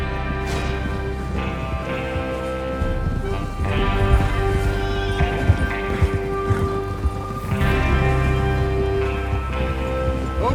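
Hooves clip-clop in uneven rhythm as several horses move along in the video game Red Dead Redemption 2, with creaking, rustling and a low rumble in the background.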